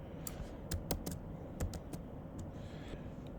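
Computer keyboard keys tapped for Lightroom shortcuts: a dozen or so light, sharp clicks in an uneven rhythm, some in quick pairs, fairly quiet over low background hum with no talking.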